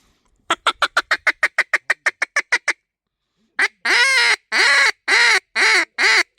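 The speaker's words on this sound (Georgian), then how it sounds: "ეგ არის თქვენი ამ საღამოს მოსანადირებელი იხვი" Decoy ducks readied for an evening hunt in a field near the Rioni River quack close and loud: a quick run of about a dozen short, even calls, a pause, then five or six longer, harsher quacks.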